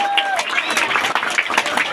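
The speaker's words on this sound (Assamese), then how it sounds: "খালি হাত চাপৰি বজোৱা" Students at a farewell ceremony for a retiring teacher in Balichang, Biswanath, clap loudly and steadily in a crowded room, with voices shouting and talking over the applause throughout.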